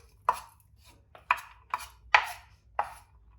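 A knife chops through a cabbage on a board in five sharp, separate strikes spaced about half a second apart. The chops are close and crisp against a quiet background.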